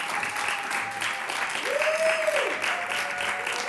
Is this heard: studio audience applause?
yes